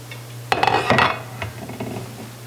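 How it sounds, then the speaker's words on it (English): A crock pot lid set back onto the cooker during chicken dumpling soup prep, giving a sharp clatter of lid on ceramic rim followed by a few lighter clinks and settling rattles, close and clear over a low steady hum. "And we'll put the cover back on."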